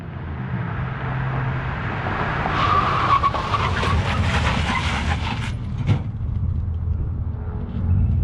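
A Chevrolet Silverado with big brakes stops hard on a road, engine rumble giving way to a loud tire squeal and skid that builds mid-clip, then a sharp knock and fading rumble, recorded from roadside.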